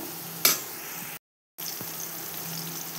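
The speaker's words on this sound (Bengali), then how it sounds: "আমি এখন কিন্তু আলুগুলো ভেজে নিচ্ছি" Potatoes sizzle steadily in a pan of hot oil for egg biryani, a continuous close frying hiss broken by a sharp clink of a utensil early on and a brief dropout of silence midway.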